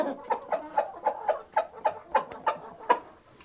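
Adler breed chickens cluck nearby in a steady rhythm of about a dozen short, evenly spaced calls over quiet background noise.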